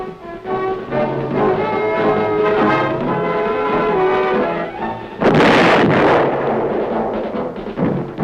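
Tank gun firing at a moving target at Aberdeen Proving Ground, a single heavy blast erupting after a stretch of droning tonal sound, loud and booming with a rumbling tail.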